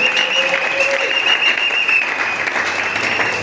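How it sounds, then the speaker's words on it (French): Church congregation at a Sunday thanksgiving service applauding, steady dense clapping from many hands that fills the space evenly throughout. "Acclamez pour le"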